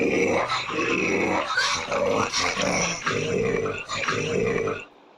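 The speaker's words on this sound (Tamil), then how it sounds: "இதுதான் கொராங்குட்டான் சவுண்டு" Orangutan calling with rough, throaty growls and grunts that run almost continuously for about five seconds, loud and close, before cutting off abruptly.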